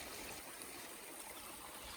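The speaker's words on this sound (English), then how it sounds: "It's right by the stream." A stream beside a campsite in Santa Fe National Forest flows steadily, a faint, continuous wash of rushing and trickling water with no voices.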